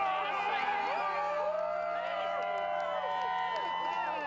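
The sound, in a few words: crowd cheering at a ring of fire solar eclipse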